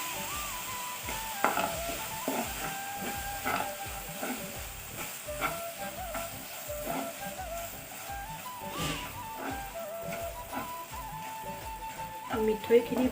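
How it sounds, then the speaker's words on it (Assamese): Sugar hits hot oil in a wok and crackles in a soft, continuous sizzle, with scraping stirs and clinks on top. Background noise runs throughout. "তেলখিনি গৰম হোৱাত মই এতিয়া মিঠৈখিনি দি দিছোঁ।"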